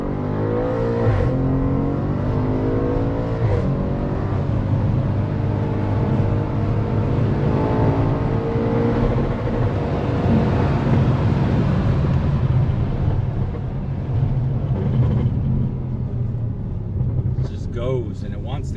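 An Audi sports car accelerating hard from a rolling start: the engine note climbs steadily through the revs, loud and close from inside the cabin, while a person talks over it throughout.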